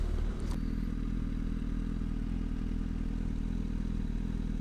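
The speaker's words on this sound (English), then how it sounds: "Lots of motos out today." Motorcycle engine heard while riding a Harley, a steady low rumbling drone with wind and road noise, close and continuous throughout.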